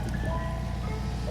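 An ice cream truck sits parked close by, its steady engine rumble filling the low end while faint tonal chime-like lines hover above, continuous and fairly quiet throughout.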